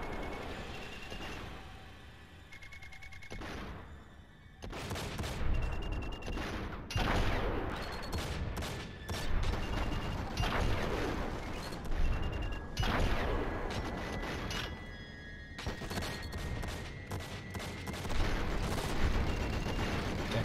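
Gunfire in the video game Enter the Matrix comes in dense, loud bursts of rapid shots with booming impacts, after a quieter opening few seconds, with sustained volleys continuing throughout and no voices over them.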